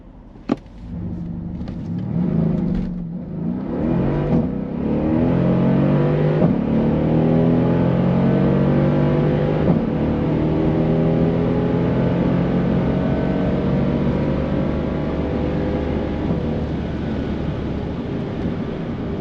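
Mercedes SL63 AMG with a P30 performance pack launching from race start at full throttle, a loud deep engine roar building after a few short revs and holding a sustained, rising pull through the gears, close and alone.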